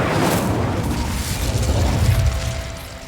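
The Incendio fire spell is cast in Hogwarts Legacy as a dense, rumbling whoosh of flame that fills the moment and then slowly fades, loud and with no voices.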